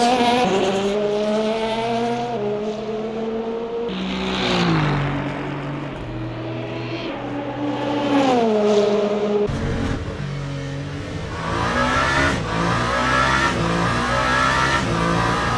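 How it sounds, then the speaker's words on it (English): Alpine race car engine in Le Mans Ultimate, a loud, continuous high-revving note rising through gears, dipping on lifts and downshifts, then climbing hard again with sharp upshifts. "always a very nice engine note from the Alpine"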